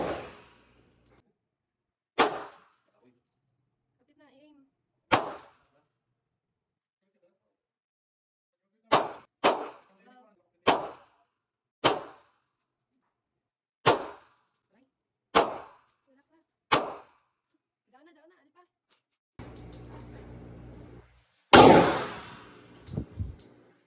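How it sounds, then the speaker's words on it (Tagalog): Gunshots at a firing session, about a dozen sharp loud reports spaced irregularly with near-silence between them, followed by a burst of noise and one final heavy bang. "Firing."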